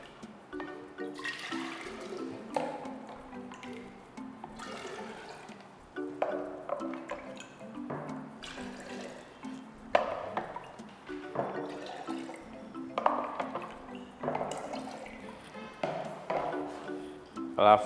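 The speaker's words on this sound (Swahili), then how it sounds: "Kwanza tutaweka maji kwenye chombo kingine" Water is poured from one vessel into another in a classroom density experiment, in repeated splashing, dripping pours, with a voice heard faintly in the background.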